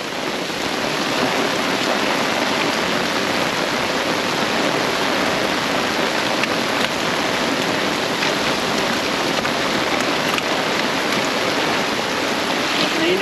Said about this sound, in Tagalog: Papasaan ah. Lakas ng ulan.